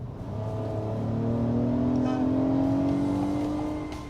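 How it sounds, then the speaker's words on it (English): A 2022 Acura MDX with a V6 accelerates at full throttle, its engine note rising in a steady, loud climb through the revs, heard from inside the cabin with no talk. "That seems like a pretty good excuse to floor it."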